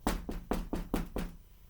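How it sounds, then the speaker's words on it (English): Six quick, even knocks on a door land close and firm, with no talking around them. "There is a knock at the door."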